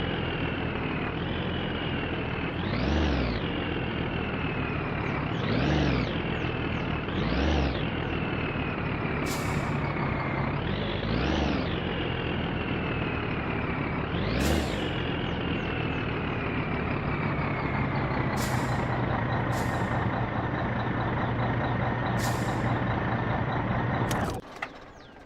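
In the My Summer Car game, a truck's engine drones steadily while it parks, with several sharp hissing air-brake bursts and rising engine swells, before the sound cuts off abruptly.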